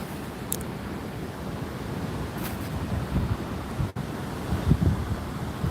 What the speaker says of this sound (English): let's just check that surf out again real quick